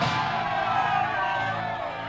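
A large crowd in a movie scene cheering and shouting together, a dense, continuous roar of many voices held at steady loudness for a couple of seconds.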